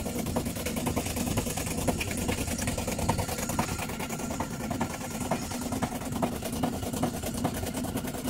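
Noisy old worn top-loading washing machine running, a steady mechanical hum with rapid regular clatter throughout, moderately loud and alone.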